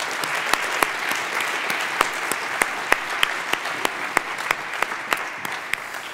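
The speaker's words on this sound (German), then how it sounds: "Herzlichen Dank, großen Applaus bitte." An audience claps at a skills-day finalist presentation, a continuous round of applause with distinct individual hand claps popping out evenly across the whole stretch, close and steady.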